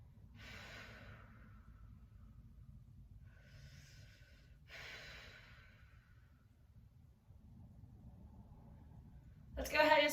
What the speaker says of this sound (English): Start to take big inhales and big exhales,